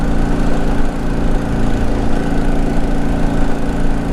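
A tuned motorcycle engine runs loud and close with a continuous rough, throaty drone and small rises in the revs.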